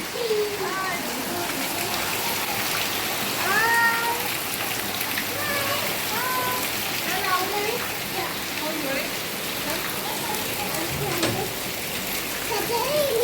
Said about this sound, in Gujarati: જો આજે અમારે બહુ વરસાદ આવી રહ્યો છે.